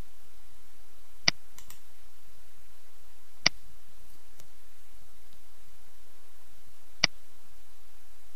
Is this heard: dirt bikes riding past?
no